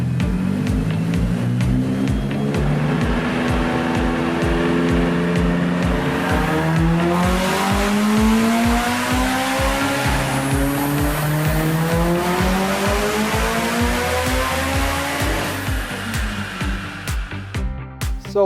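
A Mitsubishi Evo X with a new turbo roars through a dyno pull. The loud engine revs climb steadily toward the redline, then ease off near the end.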